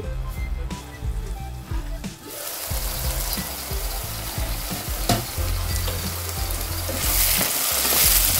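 Sweet potato pieces sizzle and fry in a pan for a spicy tamarind stew, with a steady crackling hiss, stirring scrapes and clatter early on, and the sizzle growing louder toward the end.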